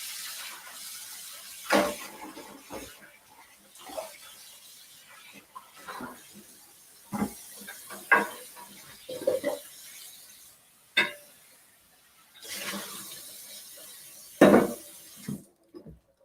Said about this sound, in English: I do need to rinse out my casserole dish